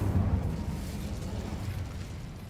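In the video game Hogwarts Legacy, an Incendio fire spell bursts out as a deep, rumbling whoosh of flame that starts loud and then rolls off into a sustained low roar.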